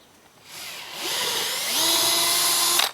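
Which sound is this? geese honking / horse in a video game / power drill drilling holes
power drill drilling holes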